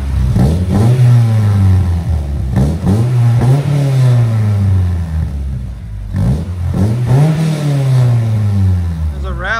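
Repeated sharp revs from a 1997 Honda Prelude 2.2L fitted with headers and a Skunk2 Mega Power cat-back exhaust, loud and close, each throttle blip climbing then falling away in a steady series.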